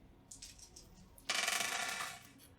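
Three dice rolling on a surface during a tabletop game session, a short rattle of clicks building into a dense clattering tumble that fades out, with no talk.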